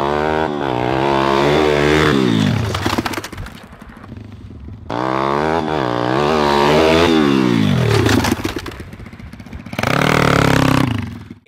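A dirt bike engine braking, its motor bellowing and dropping in pitch over two long passes while the rear wheel chatters against the chain, loud and close with a final burst of revving.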